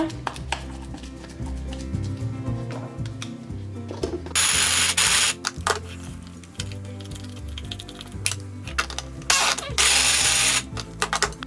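A food processor churns a thick vegan bliss ball mixture in short, choppy pulses, with bursts of harsher whirring between quieter grinding stretches.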